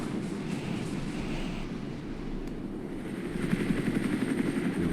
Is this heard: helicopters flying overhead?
yes